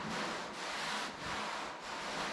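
A towel rubs patina sauce into the body of a 1954 Chevy in steady back-and-forth strokes, a close, continuous broadband swishing that swells and dips with each pass, with no talking.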